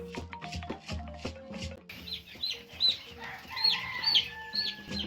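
Chickens cluck and call at a poultry farm in Obala, Cameroon, a busy overlapping chorus of short clucks and higher squawks at moderate distance, with a few sharper cries standing out later.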